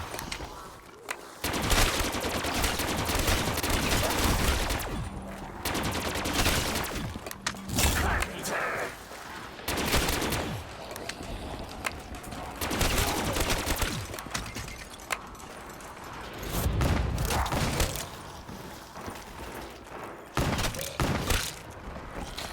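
Sustained bursts of automatic gunfire from a drum-magazine gun in a video game, dense rapid rattling shots with thumps and brief pauses, loud and close over about twenty seconds.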